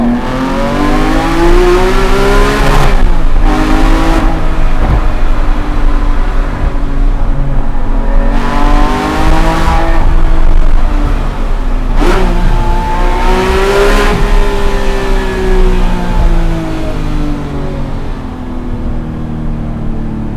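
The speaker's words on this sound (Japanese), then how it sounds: "そのトンネルの中で素晴らしい 4リッターフラット6のサウンドを聞いてみましょう。" A Porsche 911R's 4-litre flat-six engine revs up and down repeatedly in the Roppongi tunnel, its loud, rising and falling roar echoing in the enclosed space.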